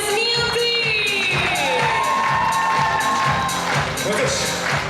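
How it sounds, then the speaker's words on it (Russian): Student beauty pageant audience at a university Miss and Mister contest cheering and whooping loudly, with a sustained crowd roar, shouts and scattered clapping throughout. "дарим эти аплодисменты"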